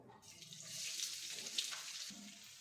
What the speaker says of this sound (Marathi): आधी आपण कांदा परतायला घेऊ तेल आहे आता आपण कांदा फ्राय करू